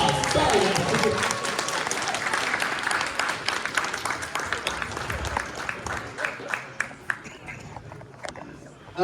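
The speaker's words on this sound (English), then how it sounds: "Give her a round of applause" Audience at a comic expo panel for X-Men '97 breaking into applause, a dense crowd roar of clapping that thins into scattered individual claps, with talk heard underneath.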